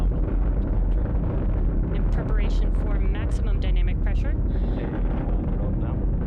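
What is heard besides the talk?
Falcon 9 rocket's nine Merlin engines roaring during ascent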